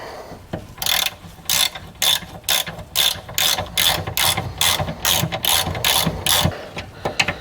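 A hand ratchet clicks in quick, regular bursts while tightening a bolt on a Mazda 6 rear sway bar link, close and crisp, about a dozen strokes with short pauses between them, no talking.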